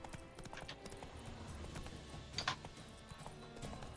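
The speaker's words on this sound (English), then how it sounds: "Cavalo. Pânico do cavalo." Horse hooves clip-clop steadily in The Witcher 3 video game, a quiet continuous trotting rhythm with a brief snort or whinny mid-way, under low game ambience without talking.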